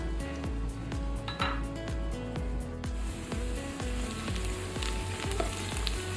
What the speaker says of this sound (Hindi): प्याज को अच्छी तरह से फ्राई करें